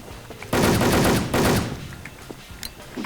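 Bursts of rapid automatic gunfire in an online shooter game: a long loud volley, a brief pause, a second burst, then scattered single shots trailing off, with no talk over it.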